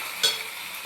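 Finely chopped green chillies, curry leaves and ginger frying in oil, a brief close sizzle with one sharper spatter burst early on.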